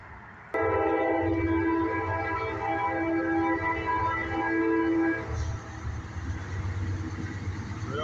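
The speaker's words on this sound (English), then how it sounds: "We got a train." A CSX freight train, an intermodal and autorack consist, rolls past a crossing on Washington Street in Ohio, its loud multi-tone horn blaring steadily for about five seconds over heavy rumbling wheels that continue after the horn stops.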